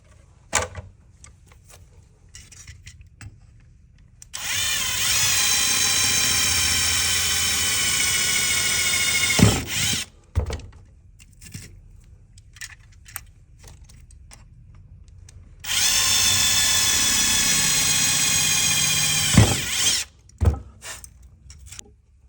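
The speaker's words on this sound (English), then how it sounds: "Now that we have the holes drilled in the top and the bottom for a wire pass-through" A power drill bores holes through a Toyota Tundra map light bezel in two steady, loud whirring runs of several seconds each, with quiet handling clicks in between.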